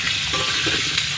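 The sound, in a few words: meat cooking in oil over a wood fire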